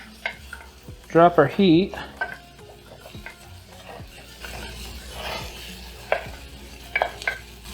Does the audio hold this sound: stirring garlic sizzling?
yes